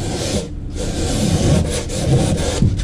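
Close, steady rubbing of sandpaper over a cured epoxy patch on a wingfoil board, back-and-forth abrasive strokes with a brief pause near the start.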